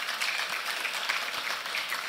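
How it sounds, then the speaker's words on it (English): A crowd at a national mining dialogue applauds in a sustained, even roar of many hands, moderately loud and unbroken, without talk over it. "we must give a round of applause to Asempa for leading this charge"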